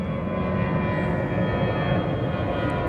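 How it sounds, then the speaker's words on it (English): Airplanes flying overhead give a steady, loud, broad roar that fills the whole moment without fading, with no voices over it. "Planes overhead."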